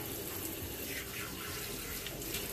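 A tap runs steadily into a sink for washing the face, a continuous close hiss of flowing water at even loudness throughout, with no talking.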